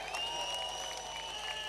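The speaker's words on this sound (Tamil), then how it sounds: "அதான் பேருங்க பின்னாடி போய் நிற்கிற அவருக்கும் ஒரு கைத்தட்டுங்கள்" An audience at a Tamil community conference in Perumanallur claps in a brief, dense burst of steady applause, fairly distant and alone.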